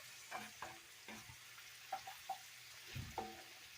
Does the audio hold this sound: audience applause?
no